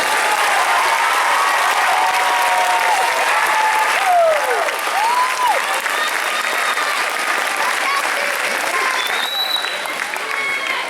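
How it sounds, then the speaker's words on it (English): A crowd at an 8th grade graduation ceremony applauds a spelling bee champion with sustained, loud, dense clapping that fills the hall, while voices call and cheer faintly through it. "Let's give everybody a nice round of applause"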